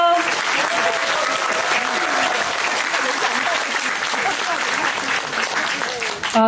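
Loud, sustained audience applause fills the room at a talk concert, a dense rush of clapping with faint voices mixed in throughout.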